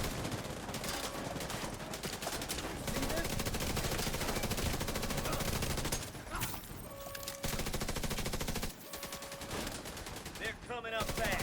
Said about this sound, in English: I guess I'll shoot him again.